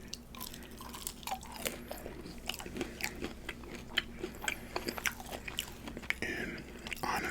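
Close-up crunching and chewing of cheesy Maxwell Street Polish fries eaten for a mukbang, with steady bites and wet mastication sounds repeating throughout, no talking.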